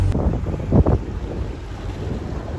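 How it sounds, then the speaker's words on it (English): Wind at about 15 knots buffets the microphone aboard a sailboat among karst islands, a close low roaring gust peaking briefly, with water washing against the hull beneath. "And obviously there was no wind today and now there's 15 knots of wind"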